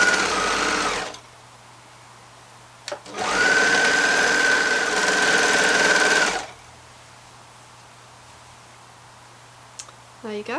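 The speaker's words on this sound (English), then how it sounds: "just for the sake of neatness I'm just going to overlock these." Overlocker sewing machine running over the raw edges of jersey fabric in two loud, close bursts, a short one and then a longer steady whir of about three seconds, with quiet gaps and a few clicks between.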